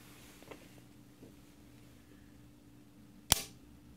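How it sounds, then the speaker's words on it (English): Dry fire of a black powder muzzle-loading sniper rifle with a hair trigger, a single sharp metallic click close up after faint handling noises, otherwise quiet. "We'll do one dry fire on it."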